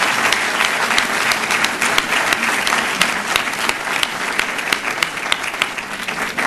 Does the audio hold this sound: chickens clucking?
no